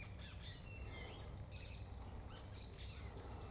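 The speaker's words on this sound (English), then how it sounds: "The birds are singing." Faint high chirps and twittering of springtime birds outdoors, with a few scattered calls over a steady low background hum.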